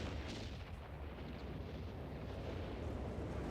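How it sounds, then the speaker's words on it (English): Naval artillery fire in the Company of Heroes 3 video game forms a faint, distant, continuous low rumble of muffled blasts that roll into one another without clear breaks. "I hear like naval artillery or something going on"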